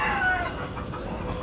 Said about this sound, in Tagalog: So ayan ayan mga manok.